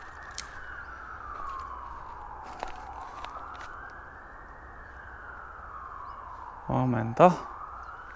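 An emergency siren, fire brigade or police, wails in a slow rising and falling sweep from a distance near a forest, steady under light ambient noise, with a short spoken word and nearby rustling near the end.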